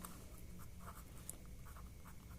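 Marker or chalk scratching across a board while an equation is written out, a steady run of soft strokes with no talk over it.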